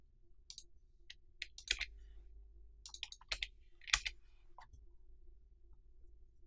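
Sharp, close mouse clicks on a computer come in irregular bursts and single taps over a faint steady hum.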